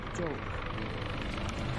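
A rescue helicopter flies over the capsized Costa Concordia cruise ship, its constant whirring drone filling the background while people talk over it.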